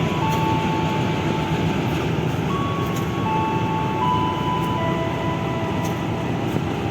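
A train on an extra Pasar Senen to Solo Balapan service rolls along with a dense, continuous rumble and faint steady tonal whines, loud and close throughout with no talk.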